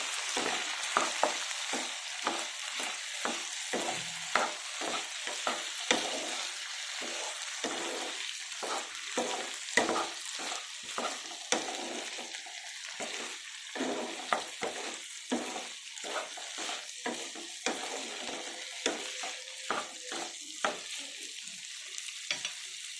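Potatoes fry in a pan for aloo fry with a steady close sizzle. Frequent scraping stirs break it into a loose, repeating rhythm, with no talk.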